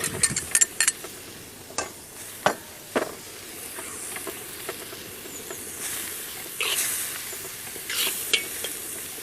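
Spinach puree cooked with mint and coriander is stirred into a simmering lamb curry. A spoon scrapes and clacks irregularly against the pot over a steady low sizzle and bubbling, with a few sharper knocks near the start.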